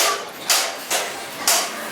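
Three sharp hammer blows on metal ring out at a steady, unhurried pace in an old craftsmen's street in Gaziantep, Turkey, each with a bright clang that fades before the next strike.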